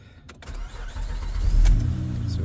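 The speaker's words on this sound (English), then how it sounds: "We're gonna go ahead and fire it up and see what happens." A 2008 Honda Ridgeline RT with about 203,000 miles cranks and fires up close by, a brief starter whir giving way to a steady low idle that swells slightly and holds.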